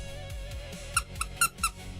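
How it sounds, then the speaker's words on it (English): A dog squeaker sewn into a fabric patch on a pair of pants gives four short, sharp squeaks, the last three in a quick uneven run, over a low background hum. "I sewed a dog squeaker into it. So now I always have a dog squeaker in my pants."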